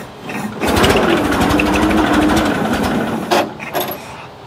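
A century-old car's engine running after starting, a dense steady mechanical rumble with fast ticking that swells in and holds for several seconds near the listener, then briefly dips and surges at the end.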